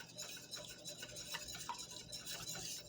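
A spoon stirs onion powder into canned pasta sauce being turned into homemade ketchup, with close, quiet scraping and soft clinks repeating irregularly against the pot.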